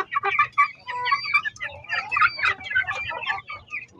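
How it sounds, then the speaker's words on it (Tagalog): Hungry chickens clucking busily and close, a dense run of overlapping calls that keeps going without a break. "So, gutom na po sila mga kapanok."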